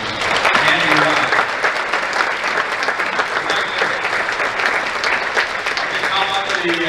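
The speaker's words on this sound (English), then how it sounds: "How about a round of applause for Andy Roth?" An indoor audience at a celebration event gives sustained, dense applause that fills the whole stretch at a steady level, with scattered cheers and voices mixed in.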